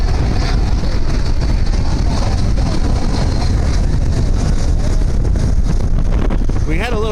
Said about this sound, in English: We had a little break from the wind, but the last 10 minutes it really started to pick up again